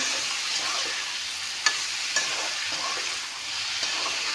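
Local chicken meat sizzling as it fries in a pan, a steady bright crackle with a couple of sharper pops and scrapes, close up and with no one talking.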